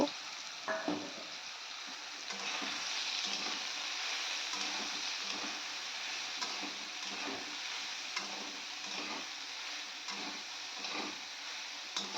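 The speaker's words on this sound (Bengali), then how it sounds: "এদিকে সোয়াবিনটা একটু ভেজে নেব" Soybean chunks fry in a pan with a steady, close hiss and sizzle, broken by occasional soft stirring knocks and clicks, running continuously for about twelve seconds.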